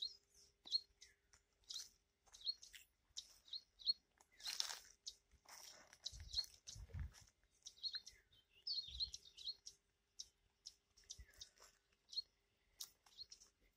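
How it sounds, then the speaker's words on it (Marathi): Small birds chirp and tweet repeatedly around a farm, high, sharp calls scattered throughout, fairly close but faint, with occasional low rustling and crunching beneath them. "हे पक्षी बोलत आहेत बघा"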